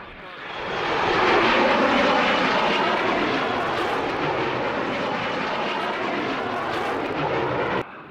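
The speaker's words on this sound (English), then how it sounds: "It is very seldom one hears the whine of jet engines at Malmi nowadays." A de Havilland Vampire jet passes overhead at an air show at Malmi, with a loud, sustained roaring whine that swells up and holds steady before cutting off.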